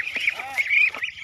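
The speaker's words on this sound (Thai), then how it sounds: "เป็ดน้อย" Small ducks quack in a short nasal burst, close and moderately loud, with a low steady hum underneath.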